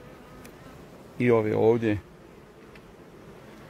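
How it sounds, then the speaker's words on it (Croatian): Agitated honeybees at an opened hive rise into a loud, dense buzz for under a second over a faint background hum, with someone speaking briefly nearby. "Pčele se malo uznemirile."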